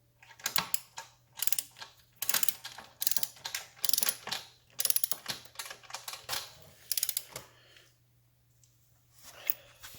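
A torque wrench ratchets in short clicking bursts while tightening the bottom end of a 1974 Norton Commando engine, close and crisp, with pauses between strokes and a quiet stretch near the end.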